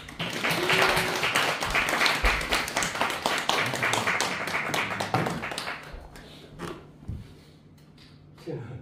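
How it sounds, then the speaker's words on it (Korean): An audience welcomes a lecturer, an environmental engineering doctor at a climate change talk, with brisk clapping that thins out and fades over several seconds, leaving a few stray claps and faint room noise. "여러분 큰 박수로 환영해 주십시오."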